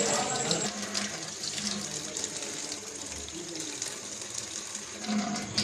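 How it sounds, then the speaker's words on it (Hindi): Mangoes are washed under a running tap, with a steady rush of water splashing over the fruit and into the sink close by. "तो अब हमारे आम भी धुल चुके हैं"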